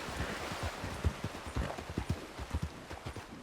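Horse hooves clip-clop at a steady trotting rhythm in Red Dead Redemption 2 Online, close and clear with no break across the stretch.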